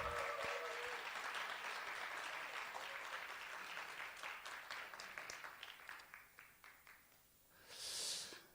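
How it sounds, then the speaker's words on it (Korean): Congregation applause in a church youth service, with dense sustained clapping that thins into scattered individual claps and fades out, followed by a brief breathy exhale. "더 힘차게 우리 박수해 주시기 바랍니다"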